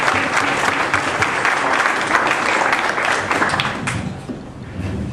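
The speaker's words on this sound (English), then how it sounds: "Let's give her a big round of applause" Audience at a WordPress talk gives a loud, dense round of applause, many hands clapping close together that gradually thin and fade toward the end.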